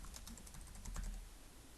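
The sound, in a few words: typing on a computer keyboard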